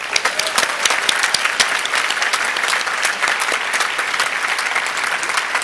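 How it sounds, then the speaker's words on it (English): Loud, dense applause from an audience at a senior celebration, saluting the graduates' parents, with many hands clapping steadily and evenly throughout, close and full without speech. "Let's give our parents a round of applause."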